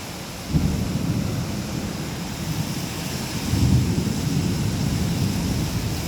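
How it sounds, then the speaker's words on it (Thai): Heavy rain in Bangkok roars steadily with a deep rumbling low end, swelling louder partway through, a continuous wash of sound without voices. "วันนี้ฝนตกแรงมากนะคะ"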